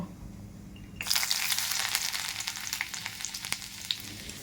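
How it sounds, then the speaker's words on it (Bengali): Whole mustard seeds, curry leaves and chopped garlic dropped into hot oil in a wok burst into a loud, close sizzle after a quiet second, with small pops and crackles continuing throughout. "কারি পাতা আর রসুন কুচি দিয়ে দেব।"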